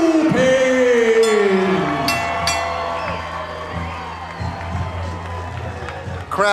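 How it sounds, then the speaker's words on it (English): A fight-night crowd roars and cheers for their fighter after a unanimous-decision win, a loud, sustained wash that eases off gradually, with a voice heard over it. "Crowd making noise for their fighter."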